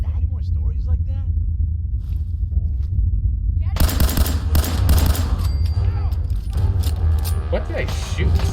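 Gunfire and explosive bursts from the video game Fallout 4 sound loudly and continuously in the second half of the clip, after quieter game sounds, while someone talks over it.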